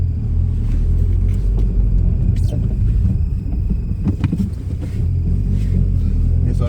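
A 160-horsepower SEAT Leon FR heard from inside the cabin while turning around, with a dense, steady low engine and road rumble that stays loud and constant throughout.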